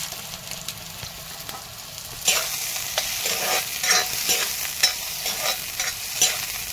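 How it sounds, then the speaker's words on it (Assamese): Soybean chunks fry in hot oil in a pan while being stirred, with a steady close sizzle and repeated scraping strokes that grow louder partway through. "এতিয়া প্ৰথমতে মই এই সয়াবিনখিনি ভাজি লম"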